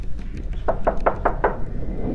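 Five crisp, evenly spaced knocks on a door, moderately loud and close, ring out over a low background murmur.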